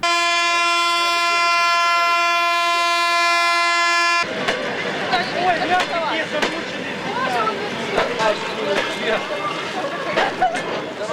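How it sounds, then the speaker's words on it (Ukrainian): A train carrying soldiers and military equipment arrives at a station, opening with a long sustained horn blast, then rumbling and clattering wagons with a crowd murmuring around it. "Потяг з бійцями та технікою прибув після 13-ї години."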